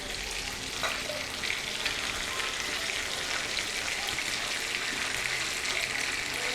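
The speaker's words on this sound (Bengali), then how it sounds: "এই পিঠটাও কিছুক্ষণ ভেজে নিব, তারপর এগুলো তুলে ফেলব।" Beef chaap pieces fry in a pan with a dense, unbroken sizzle and crackle that stays steady and close throughout, with no speech.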